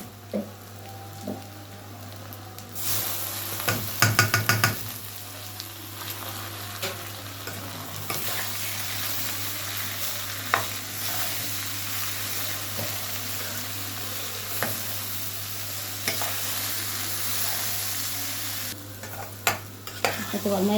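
Lentils being added to sautéed rice for yellow lentil koshari, a loud close sizzle with a spoon stirring and scraping through the pot, a few clinks mid-way, and a steady frying hiss underneath throughout.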